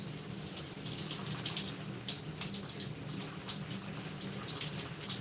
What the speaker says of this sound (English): So we gotta get the conditioner rinsed out first.